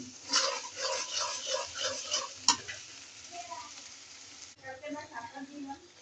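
Dried fish stir-fried in a pan gives a steady sizzle broken by scraping and stirring clatter, with one sharp knock partway through, close and moderately loud.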